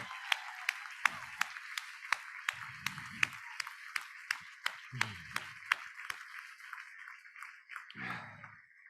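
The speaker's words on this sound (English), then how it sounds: "Give yourselves a big round of applause" Sparse, evenly spaced claps ring out one at a time, fairly faint, from an audience at a community music center's centennial gala, with a low murmur of background noise between them.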